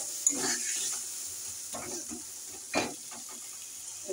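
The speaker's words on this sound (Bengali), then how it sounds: "মশলাটা ভালো করে কষাতে হবে" Spice paste with a splash of water is stir-fried in a pan for a Bengali fish curry, with a faint low sizzle under a few soft, scattered scraping strokes.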